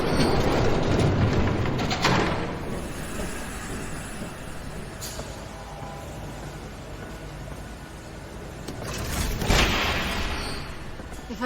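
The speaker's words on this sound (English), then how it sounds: "There's a train coming." A train approaching in a scene from the video game Batman: The Telltale Series, a steady heavy rumble with rattling wheels that swells in the opening seconds, eases off, then rises again near the end.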